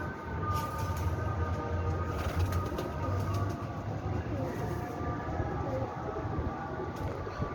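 Pigeons, a breeding pair, coo softly in low, repeated hums over a steady background rumble, with no voices.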